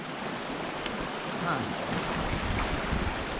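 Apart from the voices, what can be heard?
small river flowing through former waterfall site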